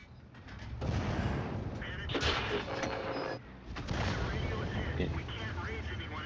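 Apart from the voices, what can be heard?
artillery fire in a tank video game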